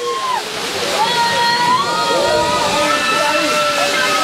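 Water pours down steadily at Kutralam waterfall in Tenkasi during the low-flow off season, a continuous loud rushing wash. Voices sound through it.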